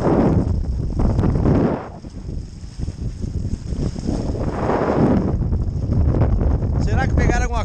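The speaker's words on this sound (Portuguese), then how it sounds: "Acalma, vento." Wind gusting over open water near a boat during slingshot fishing, a steady broadband rush that swells and eases with the gusts, with someone talking over it.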